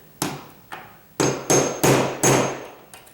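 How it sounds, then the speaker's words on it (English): A hammer taps a nail set to sink a sheetrock nail, six sharp metallic strikes in an uneven rhythm, each ringing briefly, close and loud with no talking. "you're going to use your nail set to tap that"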